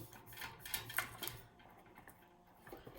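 A sharp knife cuts through soft baked flapjacks in a tray, giving a cluster of light scrapes and taps against the metal in the first half, then a quiet stretch with a faint final tap.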